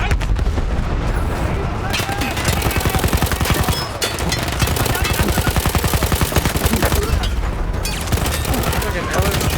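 Light machine gun fire in the video game Battlefield 1: dense, continuous rapid automatic fire, loud and close, with only brief dips over the whole stretch.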